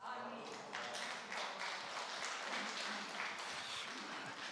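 Audience applause after a poem recital at a church service, heard faint and distant: steady, dense clapping running the whole time with no pauses or talk over it.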